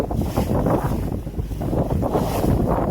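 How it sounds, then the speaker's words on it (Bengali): A motorboat runs across the open sea near Lakshadweep, its engine and hull splash forming a steady, loud rush heavily buffeted by wind on the microphone, with no voices. "তো আমাদের বোট চালাচ্ছে"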